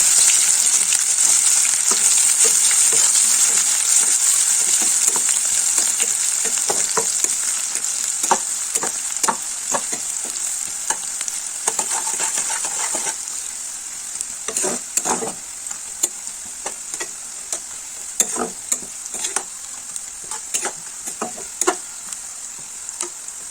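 Onions hit hot oil with whole spices and cumin, giving a loud, bright continuous sizzle with frequent sharp scraping and stirring clicks throughout, the frying gradually settling slightly quieter.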